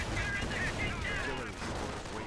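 Dense, continuous battlefield rumble from the Company of Heroes video game: artillery and gunfire blur into a loud, unbroken wash of explosions with no distinct individual blasts.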